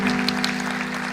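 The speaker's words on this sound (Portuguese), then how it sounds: "Uma salva de palmas" An audience at a church gathering claps in a short, continuous burst of applause, moderately loud and close.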